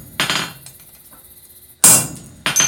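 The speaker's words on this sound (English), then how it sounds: "Trust thyself with the hammer. Going to be hitting this pretty hard." A blacksmith's hammer strikes a punch over an anvil in three hard, ringing blows spaced by short pauses, close and loud, with a metallic clink on each hit.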